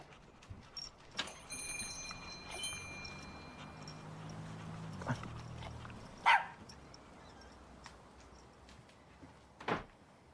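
A dog barks a few times at a distance in a quiet indoor scene, with sharp isolated yips near the middle and end over faint background noise and soft knocks.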